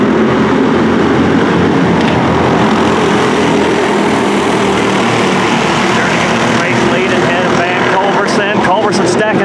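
Race cars with Predator 350 engines roar together at the green-flag start at Outback Speedway, a loud, continuous, droning pack of engines with an announcer talking over it.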